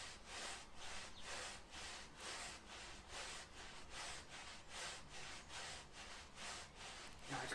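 A hand grinds back and forth through sand in a grip exercise, a close, rhythmic scraping swish repeating steadily about twice a second.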